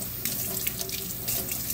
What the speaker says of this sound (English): Run warm water and get the felt and fur wet.